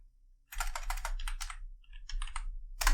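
Typing on a computer keyboard: a quick, close run of clicking keystrokes, a short pause, then a few more keys and a firmer final tap.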